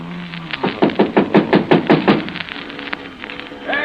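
Rapid knocking on a door as a sound effect in a 1950s–60s suspense radio drama, about eight quick raps in a steady run, close and distinct, followed by a quiet pause.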